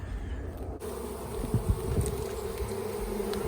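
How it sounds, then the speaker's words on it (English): Steady honey bee buzzing from a swarm fills the clip, close to the microphone, with a low droning hum and occasional louder passes as bees fly near. "I got a couple bees over here coming after me now."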